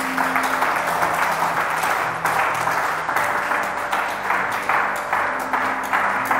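Congregation at a church seminar applauding steadily throughout, a dense continuous wash of clapping with a low sustained musical hum beneath it.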